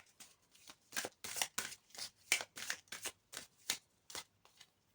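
Tarot cards shuffled in the hands, a quick run of crisp riffling bursts and soft flicks in a steady rhythm, close and clear with no talk.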